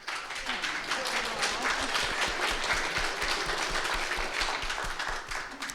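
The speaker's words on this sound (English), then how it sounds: "She got an applause." Audience at a summer forum on Islam and Islamophobia breaks into steady applause, a sustained wash of many hands clapping that holds at even volume for several seconds.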